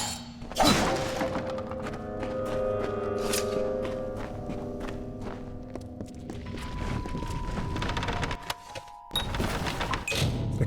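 Objects being smashed in a storeroom in the video game Kingdoms of Amalur: a loud opening shatter and thud, then ringing, clattering debris, with a second burst of breaking near the end and no talk.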